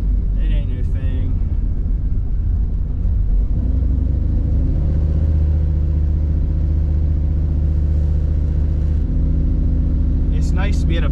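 A turbocharged Dodge Dakota RT truck with a stock bottom end rumbles along a street, a loud steady engine drone that builds slightly midway, with a brief sharper high noise near the end.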